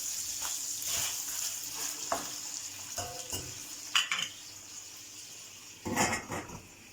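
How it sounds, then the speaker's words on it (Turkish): Meat sizzles softly in a pan with a steady hiss while being browned for a Siirt regional dish, punctuated by clinks and scrapes of a utensil stirring against the metal. "Etimiz yavaş yavaş kavrulmaya başladı."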